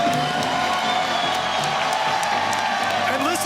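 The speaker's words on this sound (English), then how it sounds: "listen to the crowd respond to what these two awesome athletes have done for the jiu-jitsu community" Arena crowd cheers and applauds after a jiu-jitsu match between Gabi Garcia and Craig Jones, a steady dense roar with scattered whoops and clapping throughout.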